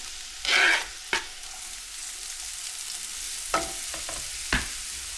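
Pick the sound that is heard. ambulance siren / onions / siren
onions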